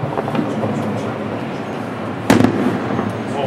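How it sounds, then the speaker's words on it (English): Fireworks over the Horseshoe Falls give a dull, continuous rumble of distant bursts, with one sharper, louder crackling blast partway through and faint crowd noise beneath. "so here we got Canadian fireworks"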